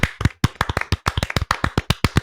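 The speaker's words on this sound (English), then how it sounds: "A round of applause for them," A few hands clap a quick, sharp, evenly spaced round of applause during a gaming podcast episode, brief and close with no voices.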